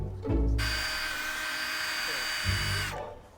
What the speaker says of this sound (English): I use finer and finer papers to grind away the discoloration